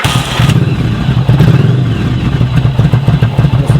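A freshly serviced motorcycle with new oil, filter and spark plugs runs close and loud, its engine settling into a steady, slightly lumpy idle with rapid mechanical clatter and no talking.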